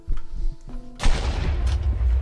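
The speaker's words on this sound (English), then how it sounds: "Oh my gosh, explosions." A loud, rumbling blast erupts in Minecraft after a moment of muffled game noise, followed by continuing heavy booming and crackle.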